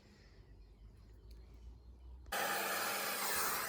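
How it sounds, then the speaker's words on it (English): A vacuum cleaner starts abruptly and runs steadily with a loud, close, broadband roar while cleaning the carpets, floor mats and seats of a BMW 320d SE Business E91 estate. Quieter ambient hum precedes it. "The first step of any interior valet is to vacuum all of the carpets, floor mats and seats."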